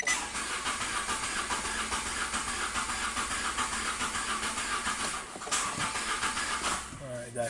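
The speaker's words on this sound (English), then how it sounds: "So I'm just gonna just crank and see what's going." Steady whirring crank of a push-start car engine being turned over during a cylinder misfire diagnosis, a continuous hissing churn lasting several seconds before cutting off, with a voice speaking near the end.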